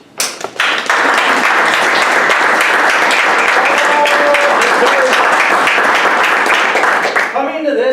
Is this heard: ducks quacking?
no